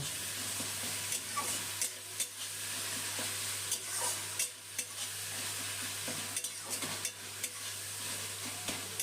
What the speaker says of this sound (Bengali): এরপর এর মধ্যে দিয়ে দিলাম আদা রসুন আর কাঁচা লঙ্কা বাটা এই বাটা মশলাটাও পেঁয়াজ আর টমেটোর সাথে একটু কষিয়ে নেব